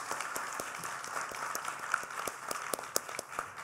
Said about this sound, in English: So let's get a round of applause for Dr. Cohen.